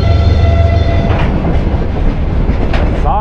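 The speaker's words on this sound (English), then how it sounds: "Very long goods train." A long diesel-hauled freight train on the Trans-Siberian Railway in Russia rumbles steadily past nearby, with continuous heavy rolling noise and a low engine drone, wheel clatter and squeals rising over it.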